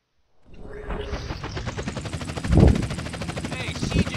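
Helicopter in the video game GTA San Andreas, a steady loud rotor drone with dense broadband engine noise starting abruptly and continuing throughout, with a couple of brief louder thumps.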